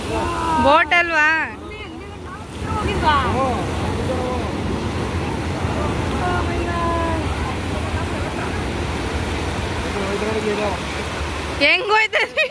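A boat moves through water with a steady broadband rush of water and motor noise running throughout, while people talk over it.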